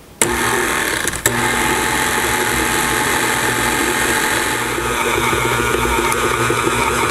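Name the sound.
stand mixer with paddle mixing shortbread dough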